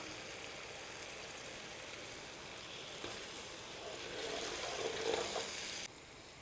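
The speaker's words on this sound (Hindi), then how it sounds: "वो शोर वो उबलवा लग गयो।" Water added for Rajasthani pithod saag sizzles and bubbles steadily in a hot pan, a continuous crackling hiss that swells louder toward the end before dropping back.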